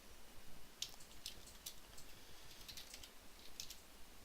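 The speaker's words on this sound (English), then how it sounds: "I have to retype my command because I closed the window." Fingers tap out a command on a computer keyboard in scattered, light clicks and small clusters of keystrokes over a faint background hiss, quiet and near, without speech.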